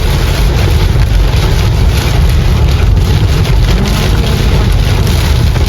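Very heavy rain pours on a moving vehicle, a loud, dense, unbroken roar of drops against the body, mixed with road and engine noise throughout.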